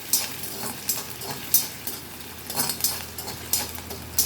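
Small chopped potatoes are sautéed in a pan, with soft sizzling under repeated scraping and clinking strokes of a utensil against the metal, irregular and close.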